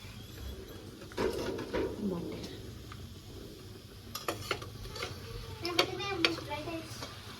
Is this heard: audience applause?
no